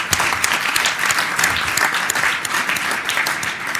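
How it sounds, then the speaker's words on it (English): An audience in Philadelphia applauds after an evening performance involving students, with steady, dense clapping and scattered sharper claps lasting several seconds, and no voices over it. "we've given them a round of applause"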